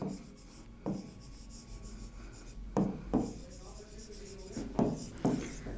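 Chalk or marker strokes on a classroom board during a chemistry lesson, a series of scratchy, rubbing marks in short bursts with pauses between them, recorded close and fairly clear.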